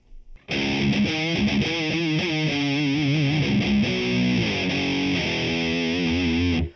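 Heavily distorted electric guitar through a Boss Katana amp with compressor plays a sustained, even-level riff with smooth compressed dynamics, ringing out for several seconds.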